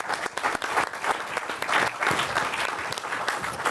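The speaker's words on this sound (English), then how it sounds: "a round of applause for yourselves first" Audience applause at a panel event, a short burst of dense clapping that stays steady and moderately loud.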